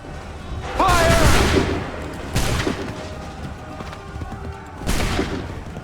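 Musket volleys in Assassin's Creed 3, three booming coordinated discharges a couple of seconds apart, each with a rolling tail, with shouted commands between them.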